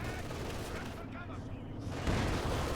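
Field gun in Company of Heroes 2 fires a direct hit on a Panther tank during a Wehrmacht versus Soviet battle, a dense, continuous rumble of gunfire and blasts with a heavier crack near the end.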